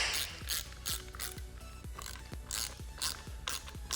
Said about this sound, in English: And we'll take our 9/16 socket